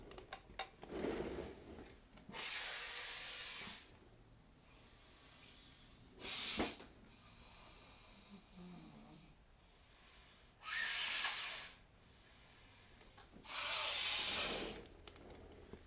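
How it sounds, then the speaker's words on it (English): Several loud, breathy blasts of air through the nose, each lasting a second or two, separated by quieter breathing and faint rustling. "Did I just showcase how to breathe while blowing my nose on a live stream?"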